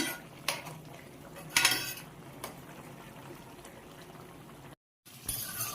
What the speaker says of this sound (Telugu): మధ్య మధ్యలో కలుపుకుంటూ ఉండండి.